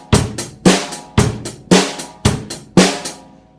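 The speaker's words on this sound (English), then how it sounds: "So that was basically just stemming off of the basic rock beat" Basic rock beat played faster on a drum kit: loud, close kick and snare hits in a steady alternating pattern with cymbal wash, about two strokes per second, with no voices.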